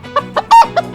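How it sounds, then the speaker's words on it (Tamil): A hen clucks in a garden in an animated story, giving four or five sharp, loud clucks in quick succession, close and with no talking. "கோழியின் சத்தம் கேட்டு"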